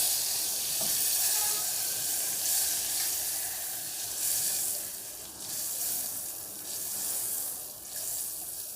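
Butter melting over a low flame in a pan for a hot milk butter cake, with a steady soft sizzle and faint stirring scrapes running throughout at close range.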